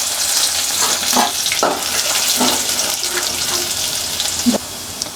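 Chopped garlic frying in hot oil with cloves for a cauliflower and red lentil dish, giving a steady bright sizzle with occasional soft stirring clatters.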